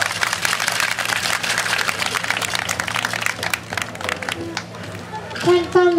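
Crowd applause at a Day of the Dead celebration at the municipal cemetery in Ciudad Madero, Tamaulipas, with dense clapping and crowd murmur over several seconds that thins toward the end, where voices and other sounds come through.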